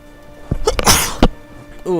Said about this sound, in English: Ooh, apologies. Bit of a sneeze.